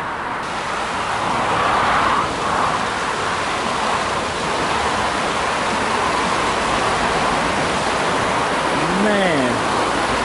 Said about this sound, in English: There's a creek right here.